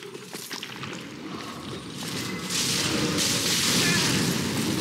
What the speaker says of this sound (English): When they're tapping the ground, they're summoning fire pillars